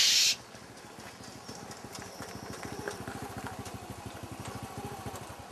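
A motorcycle arriving, its engine putting steadily with a regular pulsing beat at moderate distance, growing slightly stronger after a brief burst of noise at the start.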